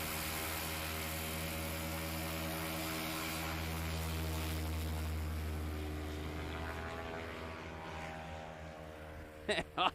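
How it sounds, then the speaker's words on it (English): A light aircraft at a STOL competition at Clarion Airport revs up for a short takeoff, its propeller engine droning steadily and loudly, then fading slightly as it departs. "Best takeoff, 170 feet."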